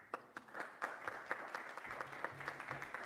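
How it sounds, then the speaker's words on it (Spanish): An audience at a talk on cacao sector sustainability claps together in a fairly quiet, moderately sized round of applause. The claps are distinct and irregular and continue for about three seconds. "Un aplauso, por favor."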